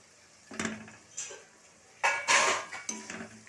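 Dried fish frying with spices and vegetables in a pan, heard as a few close, distinct metal clatters and scrapes of a spoon against the pan, separated by short quiet gaps.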